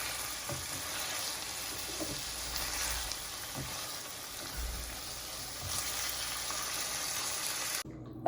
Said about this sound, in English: now it's time to flip. So I'm just going in with a spatula